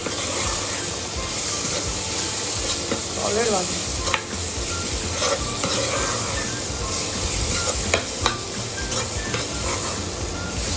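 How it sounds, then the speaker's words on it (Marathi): Onion and tomato masala with chopped coriander sizzles steadily in a pan, a continuous close frying hiss with occasional stirring scrapes and small crackles throughout. "आता हे आपलं कांदा टोमॅटो छानपैकी भाजून झालेलं आहे"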